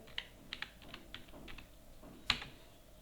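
Quiet keystrokes on a computer keyboard while entering data, a handful of light scattered taps ending in one sharper, louder key press.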